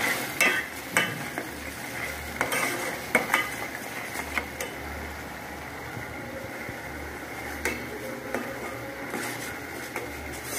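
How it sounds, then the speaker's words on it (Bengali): Spices stirred and fried in a pan, a steady low sizzle under repeated scraping and clinking of a metal spoon against the pan, close and rhythmic throughout. "এখন আমি ভালো করে কষিয়ে নেব মশলাগুলো।"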